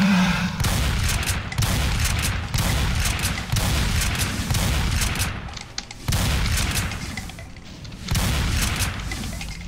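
Rapid bursts of gunfire and booming shots from the video game Doom II, loud and dense, coming in sustained volleys with brief breaks around two and six seconds.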